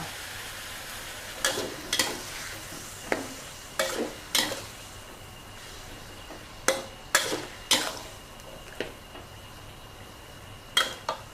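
Fish balls and long beans stir-fried in red curry paste with water in a pan, a quiet sizzle under repeated sharp clanks and scrapes of a utensil against the pan, close and with no talk.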